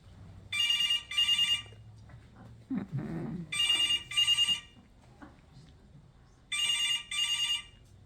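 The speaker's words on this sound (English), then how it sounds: "The phone rang." A telephone bell rings in three double bursts with pauses between them, fairly loud and close, with faint low rustling and a brief thud in one of the gaps.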